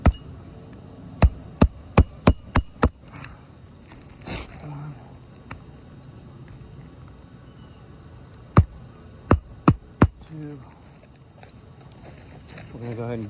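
Roof shingle fasteners being hammered in during a repair, two bursts of sharp, evenly spaced hammer strikes, five blows then four, between stretches of quiet outdoor ambience.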